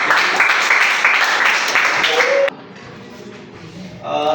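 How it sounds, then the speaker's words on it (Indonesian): A group claps for a classroom presentation, a dense burst of applause lasting about two and a half seconds before it cuts off sharply, followed by quiet and then a voice. "Kita beri aplaus untuk"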